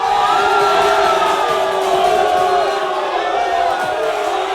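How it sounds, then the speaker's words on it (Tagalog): Crowd at a live boxing fight in Cebu, a steady, loud roar of cheering and whooping voices that holds throughout with no break. "Boss LB is hyping up the crowd."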